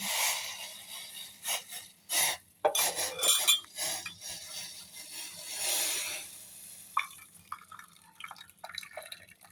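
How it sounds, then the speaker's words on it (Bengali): Freshly brewed tulsi leaf tea is poured with the leaves from a pan into a cup, making a close, soft liquid splash with clinks of metal and crockery and small drips. "এখন আমি চা ঢেলে দেব"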